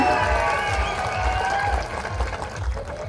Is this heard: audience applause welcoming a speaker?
yes